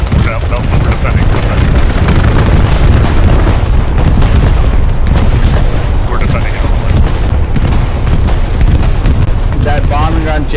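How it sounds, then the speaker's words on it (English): A bombing run in the World War II shooter Hell Let Loose brings loud, continuous rumbling explosions and booming blasts, dense and overwhelming throughout, with voices talking over the barrage. "That bombing run just saved us enough time."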